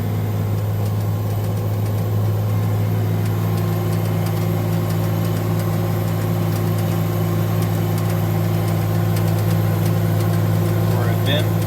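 A Case 2870 tractor engine running at a steady low drone inside the cab, a continuous heavy hum throughout with no change in pace.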